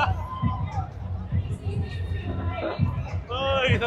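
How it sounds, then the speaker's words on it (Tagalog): Crowd of runners gathered at Dubai Run 2024, a lively murmur of many voices with scattered shouts, with people talking nearby over the babble. "look at this crowd"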